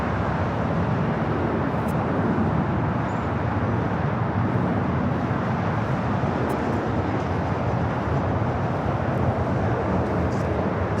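An EVA Air Boeing 787-9 Dreamliner at LAX produces a steady, broad jet roar that holds at even loudness throughout, heard from a distance with no voices.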